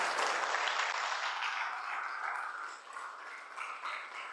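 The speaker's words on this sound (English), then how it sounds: "Let's clap our hands together for the next 30 seconds." An audience at a social impact summit and awards event claps in a steady, dense wash of applause that stays loud and even, fading slightly toward the end, with no speech over it.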